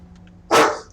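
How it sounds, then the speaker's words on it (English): One sharp, loud dog bark cuts through a quiet background about halfway in, close by and alone. "I'd appreciate it if you would stop barking."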